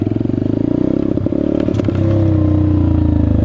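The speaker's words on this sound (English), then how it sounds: "The Peace Moto, honestly, is a lot of fun doing wheelies on" Chinese Peace Moto dirt bike engine revving close up, a steady loud buzzing idle with a brief clattering burst before settling into a sustained higher rev.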